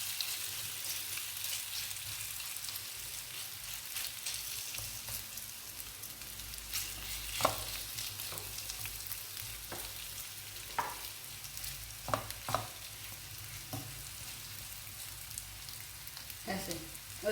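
Vegetable pancake frying in oil in a frying pan over medium flame, a soft, even, fairly quiet sizzle with occasional sharp pops and crackles spread through.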